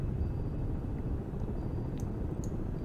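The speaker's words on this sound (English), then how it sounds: "I can hear a helicopter." A helicopter passes overhead above a submarine in the naval game Cold Waters, USSR 1968 campaign: a steady, muffled low rumble that lasts throughout, with faint high clicks and no talk.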